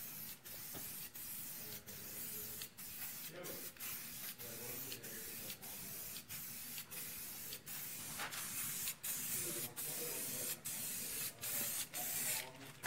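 Spray paint coating car rims, a steady close hiss broken by short rhythmic pauses and rattling clicks as the nozzle is pressed and released over and over.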